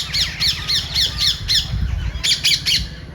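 Parrots squawk near a house in a run of about ten sharp, harsh calls with short gaps between them, loud and close, and a brief pause partway through.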